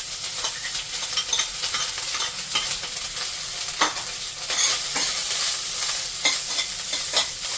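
Leftover rice with coriander sautéed in a pan, a continuous bright sizzle layered with frequent scraping and tapping of a spatula, close and steady throughout, no voices.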